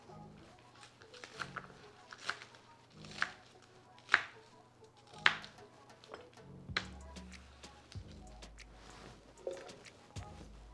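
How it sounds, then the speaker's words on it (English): Knife chopping scallions for a jerk sauce, sharp irregular cuts on a board, some spaced and some in quick bursts, with low hums and clatter between. "Chop up some scallions."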